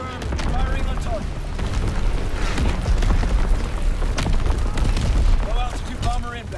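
An artillery strike in Call of Duty: WWII brings dense, rumbling explosions and crackling gunfire in a continuous loud barrage. A radio voice sounds faintly beneath the blasts.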